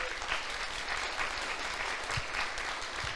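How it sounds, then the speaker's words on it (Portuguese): A church congregation applauds during a service, a dense, continuous roar of clapping that stays even and fairly loud throughout, with a few voices faintly mixed in. "Aplauda o Senhor então por isso."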